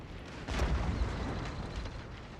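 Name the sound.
artillery fire in Shogun 2 video game battle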